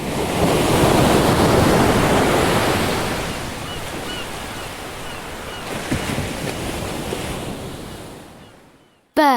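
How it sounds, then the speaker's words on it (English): Surf crashes and rolls onto a beach in a steady roar, with wind buffeting the microphone, fading out near the end before a brief cut. "The crashing of waves on a beach."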